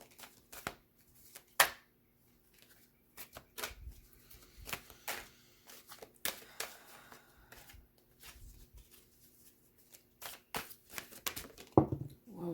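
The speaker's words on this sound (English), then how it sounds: "I'm going to shuffle this time for some reason." Oracle cards shuffled by hand in quick riffling bursts and soft slaps, repeated irregularly over a quiet background, close by with no voices.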